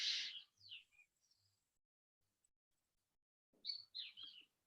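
Birds chirp outdoors in short, bright bursts, a cluster at the start and another near the end with near silence between, close and clear with no talking.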